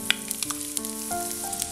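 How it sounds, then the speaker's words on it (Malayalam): Chopped onion and ginger dry-roasting in a pan without oil, giving a soft steady sizzle with a few light stirring scrapes and clicks over a quiet background. "ഈ ഇഞ്ചിയിലും ഉള്ളിയിലും വെള്ളമൊക്കെ ഒന്ന് പോകുന്ന വരെ ഇത് നന്നായിട്ടൊന്ന് മൂപ്പിച്ചെടുക്കണം"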